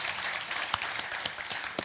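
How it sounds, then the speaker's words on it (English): An audience claps in sustained, dense applause with a few sharper claps standing out. "Please, another round of applause"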